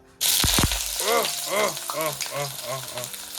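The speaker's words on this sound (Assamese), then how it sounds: "আগত পিঁয়াজ জলকীয়া ঢালি লৈ লৈছোঁ তাৰপিছত অলপমান ফ্ৰাই কৰি লৈ ল'ম" Onion and green chili drop into hot mustard oil and burst into a sudden loud sizzle, which keeps crackling steadily while a person talks over it.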